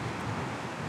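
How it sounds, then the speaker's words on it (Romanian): Strong wind on the Balchik seafront roars steadily against the microphone, a constant low buffeting rumble with no pauses and no voices. "după ce trecem de faleză și de vântul ăsta care bate și bate și bate"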